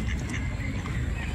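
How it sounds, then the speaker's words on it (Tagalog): Ducks quack nearby in scattered bursts over a noisy outdoor background, with a voice faintly present. "Ayan yung mga pato,"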